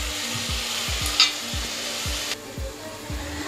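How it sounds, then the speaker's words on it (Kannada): Mutton biryani masala fries in a pan, with a steady sizzle under a spoon or spatula scraping and stirring in repeated strokes roughly every half second, close and alone. "ಇದು ಗೋಲ್ಡನ್ ಫ್ರೈ ಬರುವವರೆಗೂ ನಾವು ಇದನ್ನು ಚೆನ್ನಾಗಿ ಫ್ರೈ ಮಾಡ್ಕೊಳ್ಬೇಕು"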